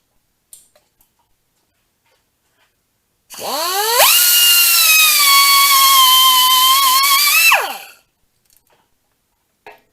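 A power cutting tool revs up and slices through a steel-braided transmission cooler line during a Derale cooler install, a loud whining buzz that holds steady for about four seconds and then winds down, with quiet clicks before and after.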